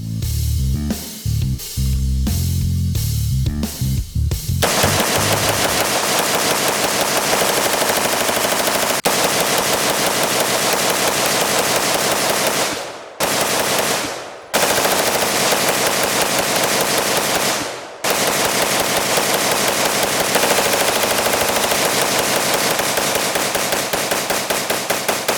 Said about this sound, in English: I want to put those 500 rounds down range